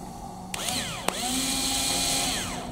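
A power drill with a hex bit whirs briefly while fastening a bracket for a drink holder on a Suzuki Jimny, its motor pitch rising and falling over a steady mechanical hum, close and clear.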